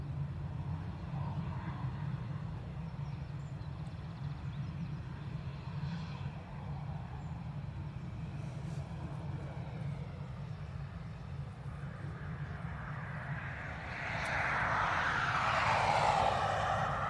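Finnair airliner departing Dublin Airport for Helsinki, a distant low engine rumble that swells into a louder roar near the end as the jet climbs away, with no talking.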